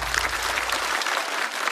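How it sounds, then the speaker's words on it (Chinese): Studio audience applause for a stand-up comedian, a dense continuous burst of clapping from a large crowd, loud and steady throughout with no voices on top. "再次掌声送给小雪。"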